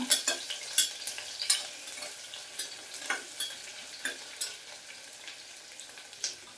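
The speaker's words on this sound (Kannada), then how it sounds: "ಹಾಗೆ ಕರಿಬೇವು 1 ನಿಮಿಷಗಳ ಕಾಲ ಫ್ರೈ ಆಗಬೇಕು ಚೆನ್ನಾಗಿ." Curry leaves and onion frying in a pan while being stirred, a steady soft sizzle with repeated scraping and tapping of the spoon against the pan.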